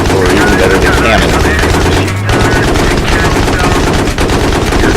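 A tank's roof-mounted heavy machine gun fires in the video game Battlefield 3, with loud rapid continuous bursts and a brief pause near the middle, while a voice talks over the gunfire.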